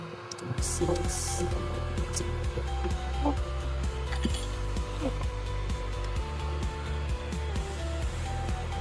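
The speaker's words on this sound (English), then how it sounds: "And now I'm fixing to sand this down on my little sander." A small electric sander works on a roach clip, a steady motor hum with rhythmic low thumping and occasional faint clinks, running continuously at moderate volume close by.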